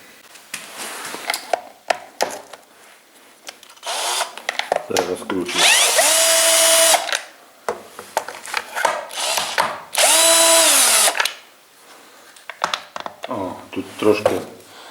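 A power screwdriver whirs in two long bursts while unscrewing parts of a Husqvarna 137/142 chainsaw, with clicks and clatter of handling between, and someone talking over it.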